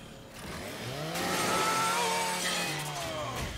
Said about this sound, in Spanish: Con esta motosierra me los cargo todos.